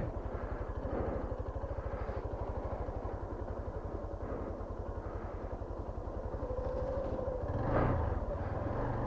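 A Hero Xpulse 200 motorcycle ridden off-road, its single engine thrumming steadily and close throughout, with a slight surge near the end and wind rush.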